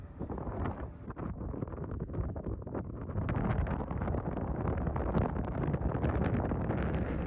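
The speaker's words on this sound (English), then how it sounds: "It is a very windy morning," Strong wind buffets the microphone on an exposed hilltop on Fogo Island, Newfoundland, a loud, continuous roaring rumble that swells slightly louder in the second half, with no talking.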